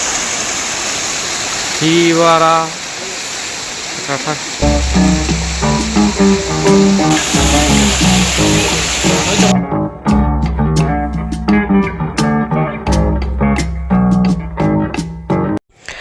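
A waterfall in North Sikkim, heard as a continuous broadband rush beneath loud music and occasional voices, with the roar fading out partway through as the music takes over.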